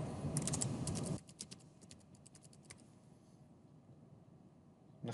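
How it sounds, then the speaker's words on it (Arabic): Quiz name typed on a computer keyboard: a burst of quick, light key clicks comes first, then scattered softer taps over a quiet hiss, with a few isolated strikes near the end. "نكتب اسم الاختبار أو اللعبة التي نرغب بها"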